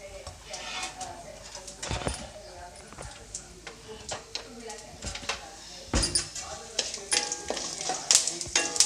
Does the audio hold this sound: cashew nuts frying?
yes